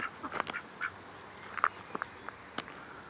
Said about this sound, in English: Ducks are headed down to the pond.